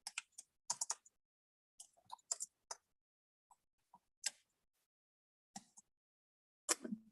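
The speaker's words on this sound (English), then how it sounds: "I can come over here and type in my live chat" Typing on a computer keyboard during a live papercraft stream, sparse bursts of clicking keystrokes with pauses between them, fairly quiet and close, no talking.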